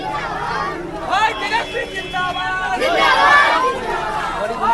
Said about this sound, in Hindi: तेजस्वी के इलाके में पहुंचते ही लोगों की भीड़ जुट गई है